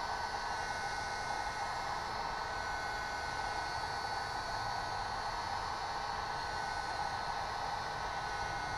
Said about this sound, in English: since I am just using the heat gun